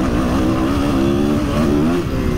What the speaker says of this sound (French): Oh, la douceur du moteur.